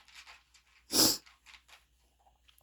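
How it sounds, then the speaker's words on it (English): Dogs eating: short snuffling, chewing and lapping noises with one louder burst of mouth sound in the middle, close by and otherwise quiet. "the dogs decided to eat now"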